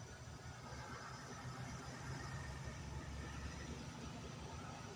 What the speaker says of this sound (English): sorry for the noise, there's a truck going by.